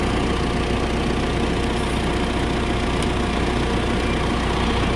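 A Mitsubishi Montero engine idles close and loud in a steady rumbling drone, its auxiliary fan whirring along, with no voices over it.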